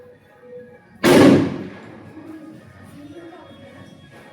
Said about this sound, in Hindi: ये बम की आवाज आ रही है